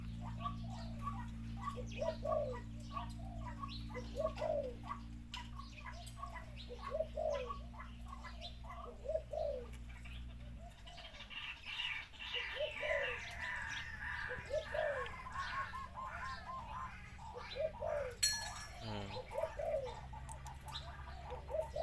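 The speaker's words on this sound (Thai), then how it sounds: "นกหลายตัวครับ" Many birds, pigeons or doves, calling outdoors, with repeated soft cooing phrases in a steady rhythm at first, then a denser mix of chirps and calls, moderately near and fairly quiet.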